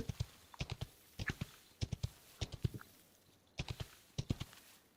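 Hooves of a riding mount drum in the mobile game BGMI. Crisp clip-clops fall in quick clusters of three or four, repeating at a steady gallop-like rhythm over several seconds, fairly close and with no talk.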